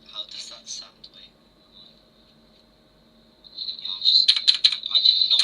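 A loud computer keyboard clatters in quick bursts of sharp key clicks, a short flurry at first, then a louder, denser run of rapid typing after a near-silent pause.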